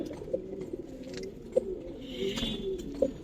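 Pigeons at a colouring pigeon farm coo softly in repeated low murmurs, with a faint rustle or flutter partway through, fairly quiet and close.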